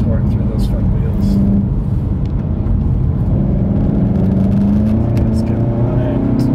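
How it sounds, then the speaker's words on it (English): An E888 car engine in sport mode rumbles steadily and loudly as the car pulls along, a continuous deep drone with no break. "Yeah, that nice little E888 rumble going on."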